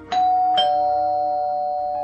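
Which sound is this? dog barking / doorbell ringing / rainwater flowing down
doorbell ringing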